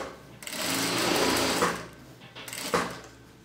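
Sewing machine topstitching along an opened fabric band beside the seam line, a close steady mechanical whir that runs for about a second, stops briefly, then starts again in a shorter burst.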